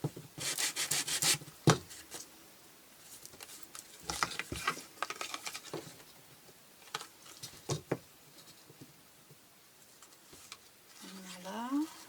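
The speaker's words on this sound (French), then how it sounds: "Petite cale à poncer, ça fait tout de suite bien sympa." A small sanding block rubs back and forth in quick, dry bursts with short pauses between strokes while making mini books, close and fairly loud.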